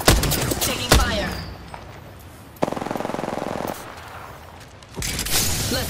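Automatic gunfire in a squad-based video game: a rapid burst of evenly spaced shots lasting about a second, preceded by a couple of heavier single bangs, with game radio chatter and ambience around it.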